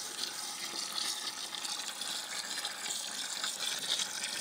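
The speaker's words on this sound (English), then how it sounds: "That's a DC electric pump." A DC electric pump, a 24-volt unit running off a 6S LiPo battery, pushes water into a small model pond, giving a steady, fairly loud gushing and splashing flow with no talk.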